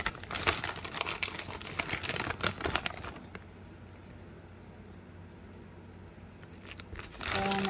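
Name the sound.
crinkling bag of shredded cheese being emptied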